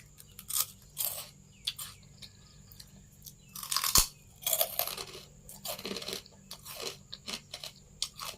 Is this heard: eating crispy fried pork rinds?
yes